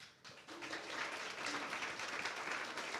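Graduation ceremony audience applauding steadily, a dense broadband wash of clapping that swells after a brief quiet start and holds at full strength.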